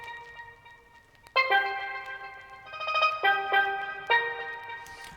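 A synth element from a dancehall beat built in FL Studio, processed with reverb, ping pong delay and a widener, plays sustained tonal chord stabs that smear and ring into one another, fairly quiet and spacious.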